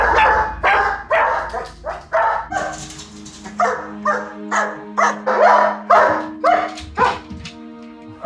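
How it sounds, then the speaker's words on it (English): A support dog with separation anxiety, left alone at home, barks and yips repeatedly in rapid, agitated bursts with whimpering tones, close and loud over a faint steady hum. "He's barking already, isn't he?"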